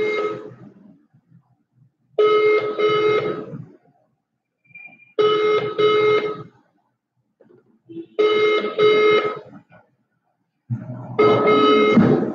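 Telephone ringing on an unanswered raffle draw call: four long, loud ring bursts repeat at steady intervals with silent gaps between them, and no one picks up.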